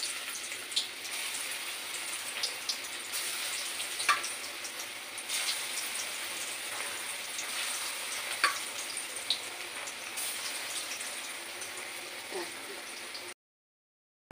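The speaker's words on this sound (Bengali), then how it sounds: "তেলটা গরম হয়ে গেছে, এবার আমি কোপ্তাগুলো ছাড়বো।" Jackfruit koftas frying in hot oil, a soft, steady sizzle with scattered pops and crackles, faint and close, ending abruptly in silence.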